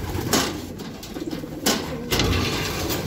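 Racing pigeon arriving at a loft during training: short bursts of wing flaps and rustling with faint cooing, fairly close, against outdoor background noise.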